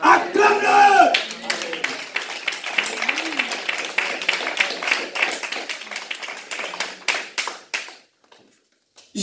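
Church congregation clapping in dense, quick rhythm with some voices in the first second, sustained for several seconds before tapering off and stopping near the end.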